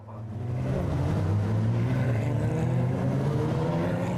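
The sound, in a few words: Porsche Carrera Cup race cars setting off on green flag lap, Nürburgring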